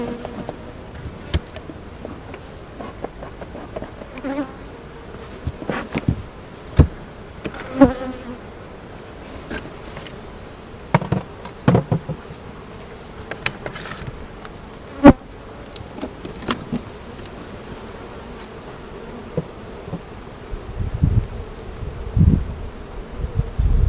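Honey bees buzz around an open hive during a routine inspection of the colony, a steady close hum with passing individual bees and frequent clicks and knocks from frames and hive parts, with no talking.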